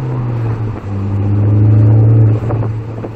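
A Ford Focus ST engine hums steadily from inside the cabin while driving, its low drone swelling briefly as the engine revs, with no talking.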